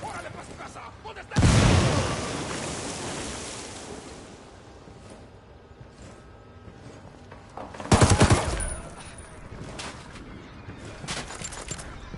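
Grenade explosion and gunfire in the Tom Clancy's Wildlands video game: a loud, broad blast early on, a long decaying rumble, then a second heavy burst of fire around the middle, with quieter crackling at the end.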